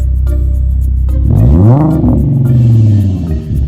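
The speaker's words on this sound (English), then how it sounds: "You can hear the rev right now, this freaking car." A Mustang engine idles with a low rumble, then revs up loudly, the pitch climbing and holding before easing back down, close by.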